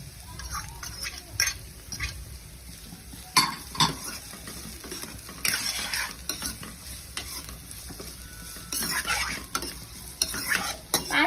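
Cabbage and masala sizzle in a pan, loud and close, broken by repeated stirring scrapes and metal clinks of a spoon against the pan.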